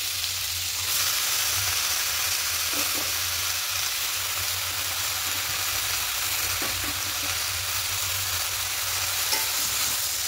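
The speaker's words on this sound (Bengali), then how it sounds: "এবার এখানে কেটে রাখা পালং শাকগুলো দিয়ে দেবো" Chopped spinach is stirred into a fried spice paste in a pan for a prawn dish, giving a continuous close sizzle with occasional scraping stirs and no voices.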